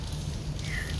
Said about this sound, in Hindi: आज मैं खुद बारिश में आई हुई हूँ और टू सम एक्सटेंट बारिश में भीग भी गई हूँ